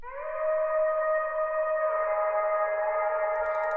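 A sustained synth pad made in Serum, drenched in heavy reverb with a wavering tremolo, holds a bright, smooth chord that shifts pitch slightly midway and rings on alone with no voices.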